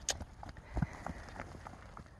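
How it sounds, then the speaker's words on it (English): A three-year-old paint mare moves around a round pen, her soft, uneven hoof falls landing faintly in a loose rhythm against a quiet background. "So this is Joy's first time in the round pen"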